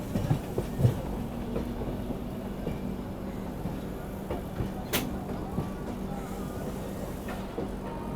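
Poorva SF Express train running, a steady low rumble of wheels on track with faint rhythmic clatter throughout, heard from inside the moving carriage, with a brief sharp high squeal midway.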